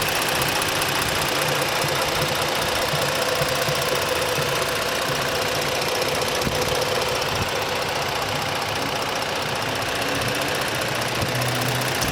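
A 2017 Ford Explorer Police Interceptor engine idles steadily, a close, continuous mechanical hum with a faint ticking texture and no talking.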